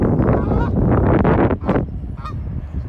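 A Canada goose honks loudly and close by in a wetland, a quick burst of harsh nasal calls followed by a quieter trailing honk.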